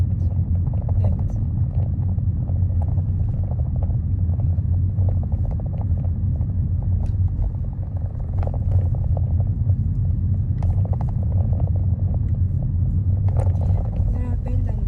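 A learner's car on a 20 mph road in Enfield during a UK driving test, slowing on a bend with poor visibility: steady low engine and road rumble throughout, with a voice talking over it.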